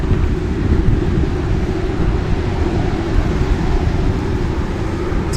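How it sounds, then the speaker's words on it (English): Steady, loud wind buffeting the microphone while cycling outdoors on a city road, a continuous low rumbling roar with gusty swells that fills the whole stretch with no talking. "It's a little windy today."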